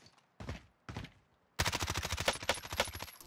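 Rapid bursts of M4A1 gunfire in Warzone: two short separate bursts, then a sustained run of fast, loud shots close at hand.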